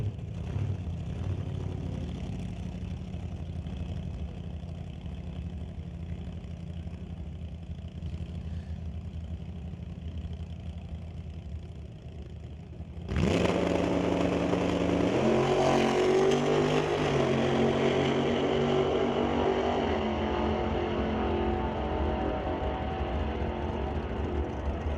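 A lime green supercharged Plymouth drag car with a big blower out the hood at a test-and-tune drag strip: a distant engine idles steadily, then abruptly roars into a loud, sustained, rumbling run that holds to the end.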